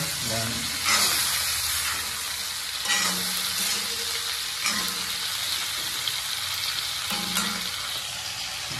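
Cauliflower frying in a hot pan gives off a steady, close sizzle, with occasional stirring scrapes and bursts of louder crackle throughout.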